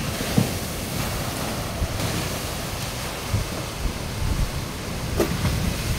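Sea water surging over the dike at Daanghari, Navotas, a steady broadband wash of waves and churning water mixed with wind buffeting the microphone, with a few louder splashes, no talk.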